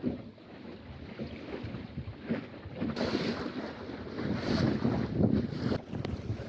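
A wooden sailing dinghy moves under sail alone with the engine off through waves on an open-water crossing of the Minch, with rushing water, hull splashes and gusty wind buffeting the microphone, rising and falling in surges.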